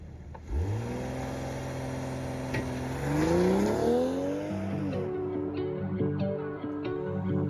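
A BMW using launch control launches hard, heard from outside, its engine revving and climbing steeply through the gears with a brief shift dip, loud and close.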